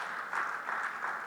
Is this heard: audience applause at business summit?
yes